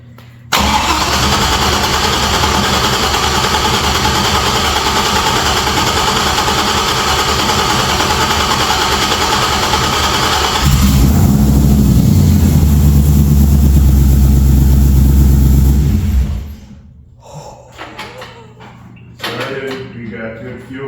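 A 1963 Chevrolet Nova SS V8 fires up for the first time, cranking into a loud, steady roar through hidden exhaust. A heavier rumbling burst follows before it cuts off, then quieter shop noise and voices.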